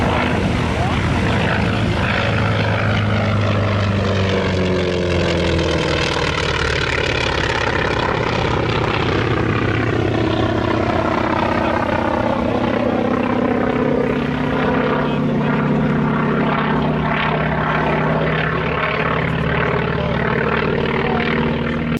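A loud, continuous AT-28 propeller attack aircraft engine drones steadily throughout, with a throbbing low rumble and no break.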